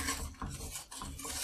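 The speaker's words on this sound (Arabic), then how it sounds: "هقلب بقى خالص على راحتي كده لحد ما اتاكد ان كله داب" A spoon scrapes around a pot in uneven, rhythmic strokes, close and fairly soft, stirring a milk pudding (muhallabia) mixture of sugar, flour and starch until it dissolves. There are short pauses between passes and no voices.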